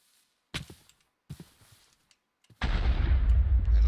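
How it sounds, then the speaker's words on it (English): Video game TNT detonates: two short muffled thumps separated by silence, then a sudden loud explosive roar that sustains and slowly fades. "First explosion of many."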